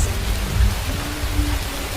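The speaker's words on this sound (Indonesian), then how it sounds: "pada saat itu Malang sedang diguyur hujan yang sangat deras" Heavy rain pours down at night in Malang, a thick, unbroken hiss of drops beating on surfaces with a low rumble underneath and no voices.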